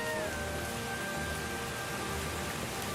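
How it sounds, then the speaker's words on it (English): Heavy rain pours steadily outdoors near high-voltage wires, a dense even hiss with a faint tonal whine fading in the background. "Gosh, it's pouring cats and dogs."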